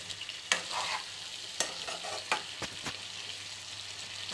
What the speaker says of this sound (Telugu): మూత పెట్టుకొని కొద్దిసేపు వేగించాలి, కొంతసేపు ఉడకాలండి వంకాయలు